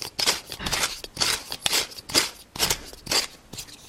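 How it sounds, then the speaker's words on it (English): A hand pepper grinder with light pepper crunches in quick rhythmic bursts, several close gritty grinding strokes with short pauses between, faint and alone. "Because this is not a heavyweight pepper, so it's not very easy to grind."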